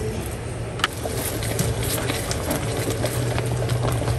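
A pot of ginataang talbos ng kamote with dilis and sardines simmering in coconut milk, giving a steady low bubbling hiss with faint pops throughout.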